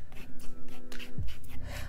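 Brush painting on a styrofoam plate used as a palette, giving short rubbing strokes and a brief squeak, close and quiet.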